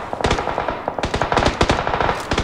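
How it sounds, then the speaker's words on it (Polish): Rapid automatic gunfire in PUBG, several sharp bursts of shots cracking in quick succession, loud and close with no talk. "I oni strzelają kogoś tam."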